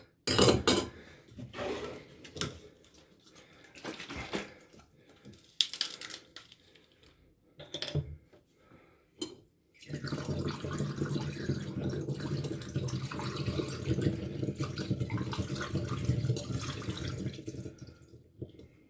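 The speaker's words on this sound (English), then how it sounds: "Time to pour the rest of the juice." Grape juice being poured while making wine, clinking and splashing in the first half with short knocks and handling sounds, then a steady, louder pour of liquid running continuously for the last nine seconds, close by with no talking.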